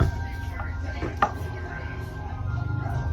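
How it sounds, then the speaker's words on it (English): Peeled potatoes are sliced with a knife, a few soft, quick cuts against the board heard faintly and close over a low room background. "just get the potatoes peeled up and sliced"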